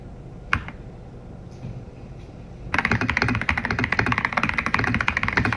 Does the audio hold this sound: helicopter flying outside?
no